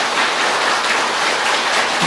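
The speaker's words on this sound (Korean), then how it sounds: "한번 박수 쳐봐." A crowd clapping at a Buddhist dharma talk, a dense steady wash of many hands heard alone at close range, even and sustained throughout without pause.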